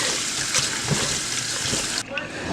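Shrimp being rinsed under running water in a kitchen, a steady close hiss of flowing water with splashes, cutting off abruptly near the end.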